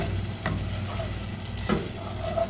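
Cooked black-eyed peas stirred in a pan, a few scraping strokes of a spoon over a soft sizzle, close and alone.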